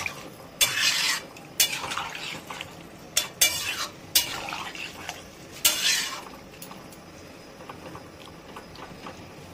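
Prawns and spring onion stirred in a pan: several scraping stirs with utensil clatter against the pan and a soft sizzle underneath, close and moderately loud, then quieter frying.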